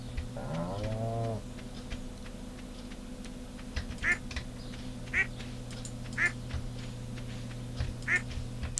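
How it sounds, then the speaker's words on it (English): Ducks quacking in the farming video game Stardew Valley: four short, clear quacks spaced about a second apart over a steady synthetic music and ambience bed, with a brief chime near the start. "Hello, ducks."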